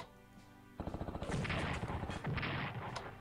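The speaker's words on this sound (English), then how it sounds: "We'll have the fighters strafe the guys." Fighter planes strafe troops in the war strategy game Strategic Command, a rapid rattling burst of machine-gun fire that starts abruptly and continues under booming impacts, loud and close, after a quiet musical hum.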